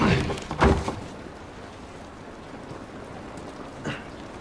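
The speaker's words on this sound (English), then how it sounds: "This rain ain't gonna do us any good." Steady rain hisses across an outdoor scene in the video game The Last of Us, a dense even wash with a couple of louder knocks and thuds near the start.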